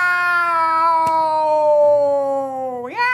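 A cat gives one long, drawn-out meow that stays loud and close, then rises in pitch to a sharp upturn at the end, with no talking over it.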